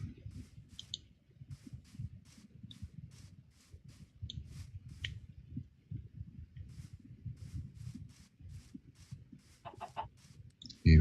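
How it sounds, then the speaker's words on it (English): Minecraft chickens cluck softly and repeatedly in a steady, busy patter, with a few louder squawks and a brief sharp noise at the very end. "I believe I heard some chickens."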